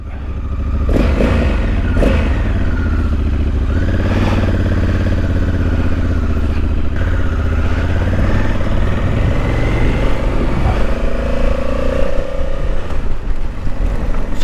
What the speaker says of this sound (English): those exhaust tones you're actually hearing are from the parallel twin with the 270 crank